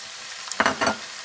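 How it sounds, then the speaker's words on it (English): Onions and scotch bonnet pepper frying in a pot for Nigerian party stew, a faint background sizzle with a brief burst of louder crackle as the pepper goes in. "I will add my scotch bonnet pepper to the onions."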